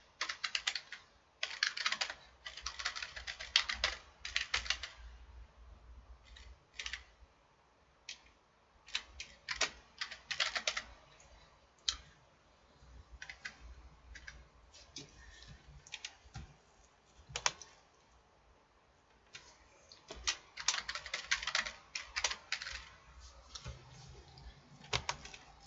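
Fingers typing on a computer keyboard to enter Google email account details, with bursts of quick clacking keystrokes separated by pauses, close and moderately quiet, with no talking.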